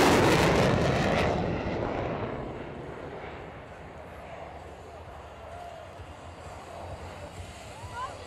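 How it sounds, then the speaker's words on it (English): F-16 fighter jet making a low-altitude, high-speed pass at the 2010 Olympic Air Show, a loud roar peaking at the start and then trailing off into a long, rumbling engine wash in the distance. "demonstrates the low altitude high-speed capability of the F-16"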